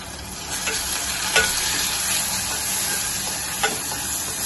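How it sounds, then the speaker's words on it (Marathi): Spices with coriander powder fry in a pan at home, giving a constant close sizzle and hiss with a few soft stirring scrapes and no talk. "आणि आता आपल्याला फ्राय करून घ्यायचं।"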